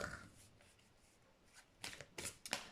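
Love tarot cards being shuffled by hand, faint riffling at first that builds into a few quick, crisp bursts of card noise near the end, without speech.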